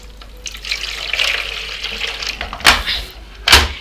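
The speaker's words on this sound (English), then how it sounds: "I prefer just using water to wash my hands" Hands washed under running water at a sink while caring for natural nails: a steady splashing trickle, near and moderately loud, with two sharper bursts of gushing water toward the end.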